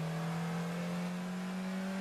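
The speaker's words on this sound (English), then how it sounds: "A Roomster making itself heard." A Skoda Roomster engine running steadily in an acoustic laboratory, a sustained droning hum with a strong low tone, held evenly and alone.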